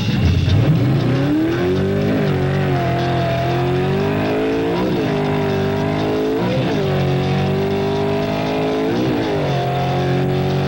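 A loud drag racing car engine roars at full throttle on launch, rising in pitch through repeated gear shifts with brief dips between, continuous and close.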